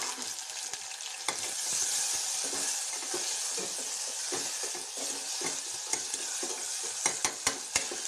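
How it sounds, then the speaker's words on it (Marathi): Chopped onion and tomato sautéed in a pan, a steady close sizzle with repeated stirring scrapes and a few sharp spoon clinks near the end, no voices. "बघा कांदा आणि टमाटर छान असा परतून घेतलेला आहे मी"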